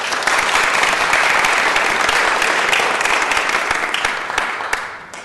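Applause fills a committee meeting room, a dense, sustained burst of many hands clapping that gradually tapers off toward the end.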